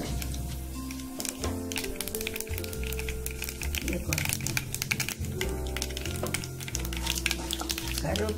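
Mustard seeds sizzle and pop in hot oil in a pan for curry leaf kulambu, a dense crackle running steadily under background music.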